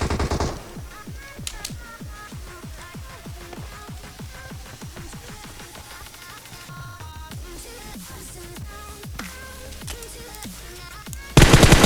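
Gunfire in the mobile battle royale game PUBG Mobile: rapid, steady bursts of automatic shots go on throughout, with a louder shot at the end.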